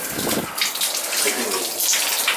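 Water runs from a shower head with weak flow, a close, splashy hiss that stays steady with slight surges, and no talk over it.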